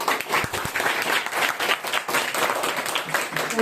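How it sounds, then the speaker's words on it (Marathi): Loud, dense applause from an audience at a school bench donation ceremony at a zilla parishad school in Neral, sustained steadily throughout with a few sharp individual claps standing out early. "त्यांच्यासाठी ना जोरदार टाळ्या वाजायच्या."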